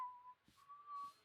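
A janitor in the theme-park game Planet Coaster whistles a short, quiet two-phrase tune, thin sustained notes with soft footstep-like taps between them against near silence.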